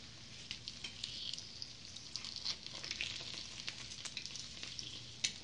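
A fried egg sizzles in a pan after being flipped, with salt flakes on the yolk, producing a steady close crackling hiss with scattered small pops and no talking.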